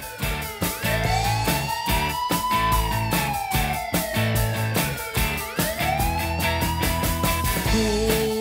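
A police car siren wails loudly and close, sweeping up and down in long, repeated rising and falling tones, accompanied by rhythmic thumping beats throughout.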